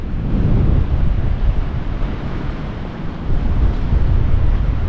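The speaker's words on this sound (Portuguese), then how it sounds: "Hoje o vento tá muito forte." Strong seaside wind in Japan buffets the microphone with a loud, continuous low roar and rumbling gusts, and no voices can be heard.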